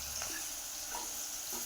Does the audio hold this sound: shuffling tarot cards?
no